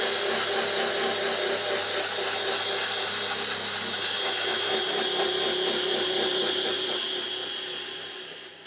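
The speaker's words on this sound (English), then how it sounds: "So I'm going to mask up and start to grind all this down." A grinder works steadily on rusty wheel arches of a Princess 2200 boat, giving a continuous, loud, high whine and gritty hiss that barely changes for several seconds before easing slightly at the end.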